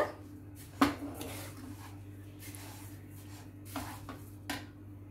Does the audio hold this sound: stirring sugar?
yes